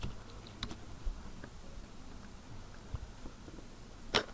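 Typing on a computer keyboard in a quiet room, faint scattered key clicks with a sharper tap near the end.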